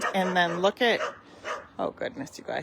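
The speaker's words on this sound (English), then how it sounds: "Sorry about the dogs. They are always barking." Dogs bark and yip repeatedly indoors, loud and close, while someone talks at the same time.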